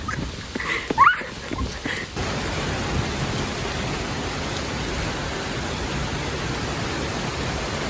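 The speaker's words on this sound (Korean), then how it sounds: "비 내려 돌아가." Rain falls steadily outdoors during a trip in Wonju, a broad, even hiss that takes over after a brief moment of quieter sounds at the start, continuing loud and close.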